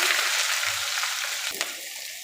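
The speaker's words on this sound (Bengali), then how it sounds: "কিছুটা শুকনা মরিচ দিয়ে দিচ্ছি আর খুব সামান্য জিরে দেবো বেশ কিছুটা পেঁয়াজ কুচি দিয়ে দিচ্ছি" Dried chilli, a little cumin and chopped onion frying in hot oil give a dense, steady sizzle close up, with one brief clink near the end.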